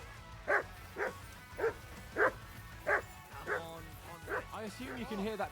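In Kingdom Come: Deliverance II a dog barks repeatedly in a regular rhythm, then breaks into rising whimpering yelps near the end, with speech running beneath it.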